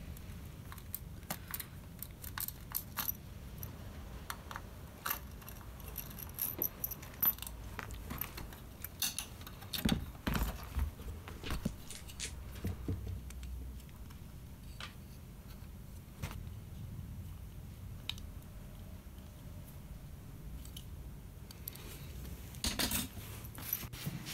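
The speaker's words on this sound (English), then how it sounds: "So here, giving the keys a bath." Plastic keys from a Yamaha SY77 synthesizer are washed in a bath, giving a faint, continuous clatter of light clicks and knocks with scattered sharper taps, close and quiet, with no talking.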